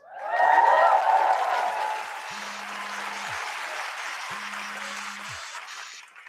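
An audience at a live tech announcement in New York bursts into applause and cheering. The noise peaks quickly, then eases into steadier clapping, with two short low electronic tones sounding underneath.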